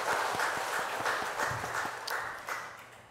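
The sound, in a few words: congregation applause in church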